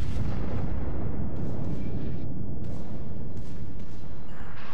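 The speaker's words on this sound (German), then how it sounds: "Da gibt es nochmal eine Salve von vorne" A naval gun salvo from the battleship Montana in World of Warships: a heavy, sustained booming rumble with deep roaring blasts that swell and fade, loud and close, with no voices.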